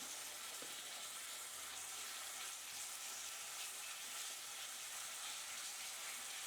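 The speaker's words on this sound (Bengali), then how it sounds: "তেলের মধ্যে কিছুক্ষণ চিকেনটা ভাজবো" Chicken fries in hot oil in a pan with a steady, soft, close sizzle and crackle that holds even throughout, broken only by a faint clink or two, with no talking.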